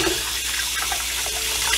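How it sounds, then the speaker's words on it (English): Tap water runs steadily into a sink as hands are washed beneath it, a continuous close splashing hiss with no talking. "And I'm going to wash my hands."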